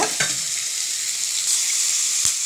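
Chopped onion frying in a pan as tomato is added for a brinjal palya, a loud continuous sizzle with a couple of brief knocks as pieces drop in.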